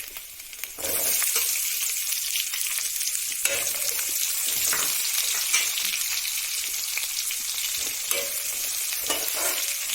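Onions dropped into hot oil for gobi manchurian, bursting into a loud, close crackling sizzle after a quieter start, with occasional stirring taps.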